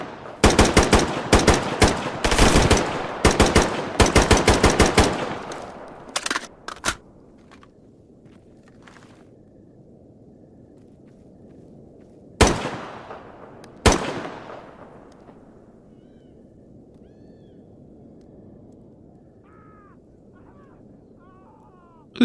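Gunfire in the shooter game Stalker Gamma opens with loud, rapid automatic bursts for several seconds. After a pause come two separate single shots, each trailing off into a quiet, low ambient hum.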